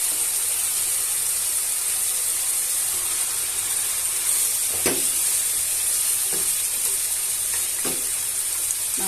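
Spice-marinated chicken sizzles steadily in hot oil for a Bengali papaya chicken curry, a bright constant frying hiss with a few soft stirring knocks partway through, no voices.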